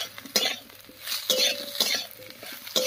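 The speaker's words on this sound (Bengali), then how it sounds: "লঙ্কা দিয়ে একটু নাড়িয়ে নিয়েছি" A utensil stirs slit green chillies and potatoes frying in oil, with several scraping strokes of spoon against pan over a soft sizzle, close and fairly loud, with no talk.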